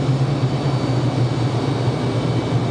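An airliner inbound from JFK to Raleigh Durham International roars as a steady, loud, broadband jet rumble that holds even throughout, with no talking.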